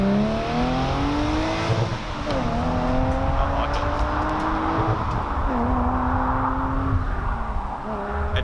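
Subaru Liberty wagon with an X-Force exhaust revving, its engine note rising and falling in repeated pulls with a throaty, steady drone close by.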